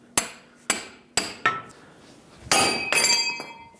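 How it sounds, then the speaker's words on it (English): A pickle fork hammered hard against a front ball joint on a 2001-2003 Lexus ES300, with sharp, ringing clanks: four separate blows, then a rapid flurry of metallic hits with a bright, clinking ring. "Now get your pickle fork and just hammer it right out of here."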